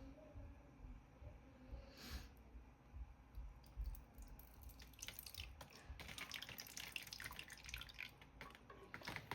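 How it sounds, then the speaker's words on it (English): Water poured from above into a potted plant during repotting, a steady splashing trickle with drips and squishing of wet soil that grows busier and louder in the second half. "Add our water. Just gonna add some from the top."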